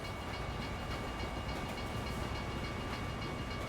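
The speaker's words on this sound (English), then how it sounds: "I can hear a train" In American Truck Simulator, a train rumbles past as a continuous, fairly faint, broadband roar of rolling rail wagons without clear horn blasts, heard alone.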